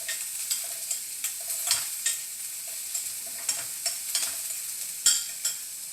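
Salted vegetables for a spicy vegetable pulao frying gently over a low flame, a steady bright sizzle broken by regular light clicks and scrapes of a ladle stirring the pan, close up.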